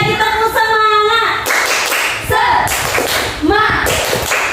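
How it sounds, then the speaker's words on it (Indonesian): A Grade 5 classroom does a rhythmic cheer clap: sharp bursts of many small hands striking together in quick patterns, alternating with children's voices chanting in unison, loud and close. "Sekali lagi tepuk semangat."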